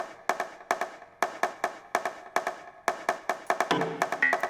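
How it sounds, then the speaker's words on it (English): Second layer of a hardgroove techno percussion loop: crisp, quiet clicky hits in a fast, steady repeating groove, with a brief tonal fill near the end, no voices. "Next, we have even more percussion loops."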